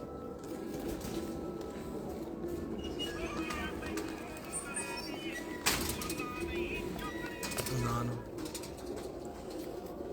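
Parwazi pigeons coo softly on a rooftop in Jhelum amid a murmur of background noise, with occasional clicks and knocks nearby.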